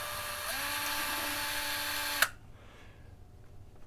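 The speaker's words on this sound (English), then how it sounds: "take a 1/16 inch drill bit and drill in the center of the slot" A small power drill with a 1/16 inch bit boring a hole into a slot for a tail hinge, a high steady whine lasting about two seconds before stopping abruptly, close and fairly quiet.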